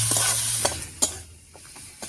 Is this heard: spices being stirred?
yes